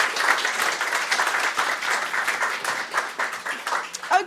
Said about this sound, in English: Round of applause for Anita MacCallum.